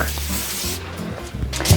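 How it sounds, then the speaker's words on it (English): Cooking spray hisses onto a foil-lined braai roaster pan in two short, close bursts over a low background hum. "So you also spray it with some spray and cook."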